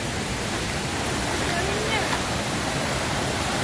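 Thommankuthu waterfall in Idukki roars in a dense, constant wash of falling water, loud and close, with no break in the rush.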